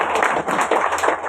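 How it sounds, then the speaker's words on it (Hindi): Meeting audience clapping their hands together in a dense, continuous patter of applause for about a second and a half, fairly loud and without any speech over it. "तो अपने लिए एक बार हाथ ताली बजाइए।"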